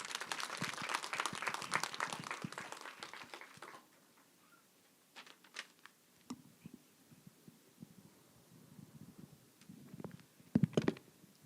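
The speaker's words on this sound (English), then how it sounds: "Let's give a round of applause." Faint, distant clapping from a crowd fills the first few seconds and then fades, leaving quiet room noise with scattered bumps.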